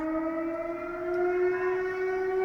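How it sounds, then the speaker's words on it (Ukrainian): An air raid siren sounds over Kharkiv as a steady, sustained wailing tone that rises slowly in pitch. It is loud and continuous throughout, with no voices. "Знов повітряна тривога."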